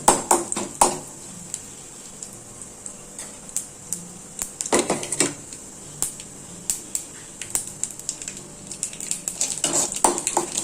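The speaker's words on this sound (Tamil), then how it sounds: "ஜீரகமும் போட்டாச்சு. நல்லா பொரியட்டும்." Mustard and cumin seeds crackle in a spoonful of hot oil for tempering tomato chutney, sharp scattered pops and metallic clinks over a low sizzle, close and without speech.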